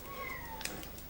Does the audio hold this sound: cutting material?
no